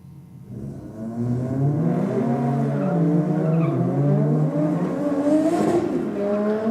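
A Ford Falcon drag racing car at a race meeting, its engine whining and revving through rising and falling pitch sweeps, loud and continuous with a rough edge of tyre noise, no talk over it.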